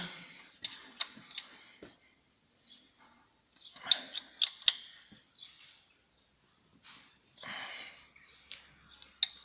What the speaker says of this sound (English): And now we are going to tighten the tensioner.